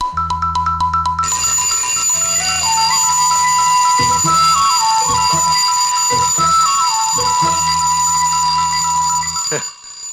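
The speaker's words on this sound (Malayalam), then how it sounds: "ഇപ്പൊ അലാറം വെച്ച് എഴുന്നേക്കുന്നു അതും അവധിക്കാലത്ത്" An alarm clock rings loudly in a scene from an old Malayalam comedy film: quick electronic beeps at first, then a steady ringing melody that carries on almost to the end.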